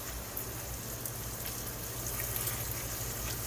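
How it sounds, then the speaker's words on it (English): Baby Bella mushrooms are rinsed under a running kitchen tap, giving a steady, even rush of water that stays constant throughout. Quiet and close, with no talking. "So I've got an 8-ounce box of mushrooms. I like the Baby Bellas. I'm gonna rinse these real quick."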